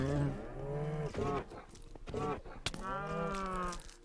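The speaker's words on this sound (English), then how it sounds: "And then I decided to let's attack this cow." A cow in the Minecraft video game moos repeatedly as it is attacked, several drawn-out, fairly close lowing calls separated by short gaps.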